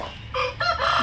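A single crow from an Aseel rooster, loud and close, lasting about a second with a rising, rasping cry and no talk over it.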